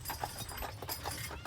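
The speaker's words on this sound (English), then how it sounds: "In the horse and carriage. Riding on a horse." A horse-drawn carriage on Mackinac Island moves along with quiet, steady hoof clops, a soft rhythmic beat over faint ambient rumble, with no talk.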